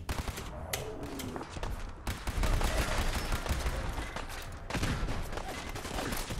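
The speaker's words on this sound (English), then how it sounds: "God, I love the grenades in this game." Grenade blasts and gunfire from Fallout 4 combat: several sharp booming bursts land in quick succession, with one dense, loud stretch in the middle, and no talking is heard.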